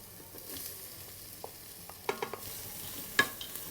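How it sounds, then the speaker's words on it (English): Mushrooms fry in a pot with chicken and cabbage for a one-pot savoury rice, a soft low sizzle running under scattered close clinks and scrapes of a utensil stirring. "Just fry them for a minute or two,"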